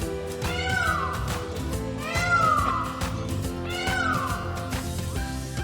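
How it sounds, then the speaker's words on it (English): Three loud, wailing peacock calls at roughly even intervals, each a rising-then-falling cry resembling a cat's meow, set over a steady musical backing with no talking. "Peacock, Peacock, peacock."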